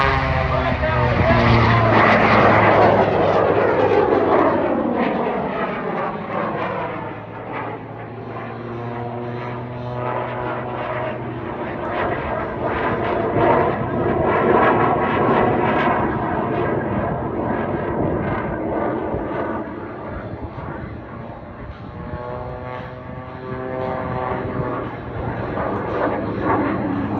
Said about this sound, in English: This airplane, with the jet engine,